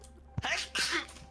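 A single sharp human sneeze, close and fairly loud, with a quick inhale followed by the explosive burst, then a short trailing breath.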